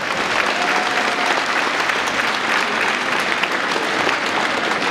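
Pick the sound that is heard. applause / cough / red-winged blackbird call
applause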